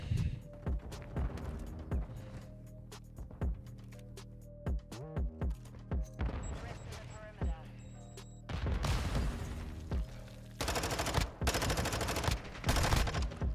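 Gunfire in a ranked video game match, with sharp single shots and rapid bursts coming at close range, including sustained fusillades near the end, over game sounds and a player's occasional talk.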